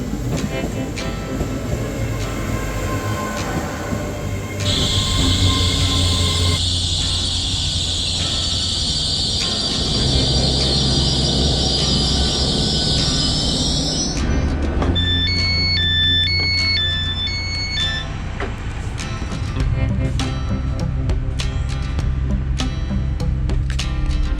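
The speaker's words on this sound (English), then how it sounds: "Aboard this Great Western Railway service" Steady low rumble of a Great Western Railway train to Penzance running on rails, with a sustained high whine for several seconds and brief electronic chime tones later.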